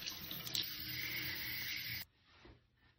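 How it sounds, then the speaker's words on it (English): Tap water runs steadily into a bathroom sink during face washing, a loud continuous splashing hiss that stops abruptly about two-thirds through, leaving faint quiet rustling. "Then you add in the water, lather up, and get everything off your face."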